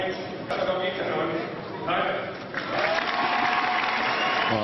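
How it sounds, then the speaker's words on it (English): A badminton crowd applauds and cheers for Ratchanok Intanon at the 2013 Swiss Open final, a dense roar of clapping that swells in waves, with an announcer's voice over it. "you could hear from the support that the crowd here desperately wants Ratchanok INTANON to do well here"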